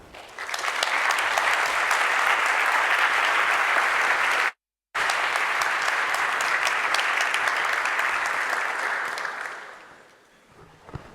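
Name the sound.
audience applause welcoming keynote speaker Anna Dyson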